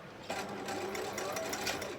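A domestic sewing machine stitches in reverse along a cushion-panel bag, giving a steady, fairly quiet motor whir with rapid needle clatter that runs unbroken for two seconds.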